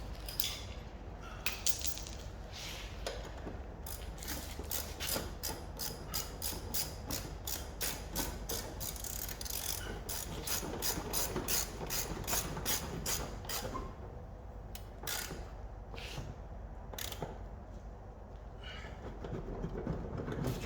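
A ratchet socket wrench works loose a part on an Alfa Romeo 145 under restoration, giving long runs of quick, even clicks over a steady noisy background, pausing briefly and resuming near the end.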